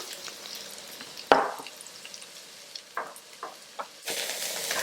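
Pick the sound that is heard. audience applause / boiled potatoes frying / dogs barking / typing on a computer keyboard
boiled potatoes frying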